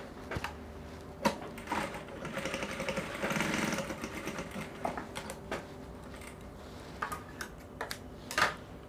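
Sewing machine top stitching a skirt pocket, quiet mechanical whirring in short runs broken by clicks and taps from handling the fabric.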